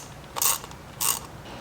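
A ratchet clicks in two short bursts, snugging down nuts on boost gauge hardware, close up and alone.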